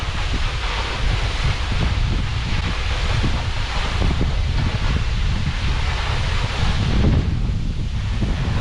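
A constant heavy roar of a waterfall in Fiordland, New Zealand, heard from a sailboat, mixed with buffeting wind against the microphone, loud and unbroken throughout.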